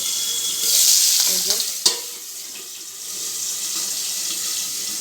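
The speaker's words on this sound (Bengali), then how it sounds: "মাছটা ভাজা বসিয়ে দিয়েছি তো এত ফুটছে ওই জন্য ঢেকে দিয়েছি" Fish fries in a covered pan of bubbling oil, a near, steady sputtering hiss with a couple of sharp pops early on before settling to a softer fizz.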